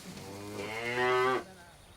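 A cow at a pasture research station in Vanuatu gives a single clear moo that rises and holds for about a second before stopping, close and alone.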